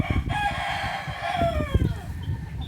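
Rooster crowing loudly and close, with chickens sick with heavy colds clucking around it inside an isolation cage, one long drawn-out crow over a busy layer of clucks.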